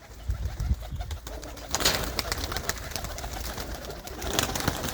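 Pigeons in a loft coo continuously, a dense layering of soft throaty calls from several birds nearby, with faint background bustle and no speech.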